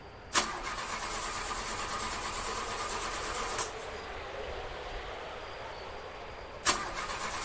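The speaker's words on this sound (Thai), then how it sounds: "รถไม่ติดอีก" In a horror video game, a car engine tries and fails to start: a steady mechanical churn runs throughout, broken by three sharp clicks or clunks near the start, the middle and the end, with no talk.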